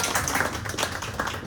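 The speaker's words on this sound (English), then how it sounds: "So we can give her a round of applause before we go." An audience bursts into applause, a dense, steady patter of many hands clapping close by and fairly loud, filling the whole short stretch without pause.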